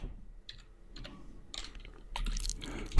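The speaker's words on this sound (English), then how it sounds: "then I type in the word style" Light, irregular clicks of typing on a computer keyboard, a few scattered keystrokes and then a denser flurry near the end, close and fairly quiet.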